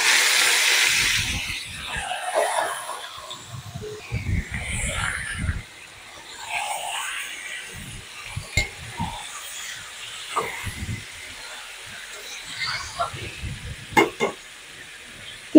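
Washed meat dropped into oil with deep-fried onions, setting off a loud hiss and sizzle that settles into steady frying with clattering stirring, close by and alone without talk.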